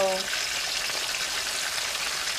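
Chicken wings for buffalo wings frying in hot oil in a pan, giving a loud, dense, steady sizzle close by, with a brief low tone at the very start.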